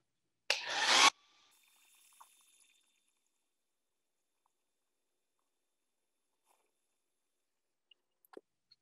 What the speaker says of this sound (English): now I'm gonna hit that with the air dryer one more time just to get that set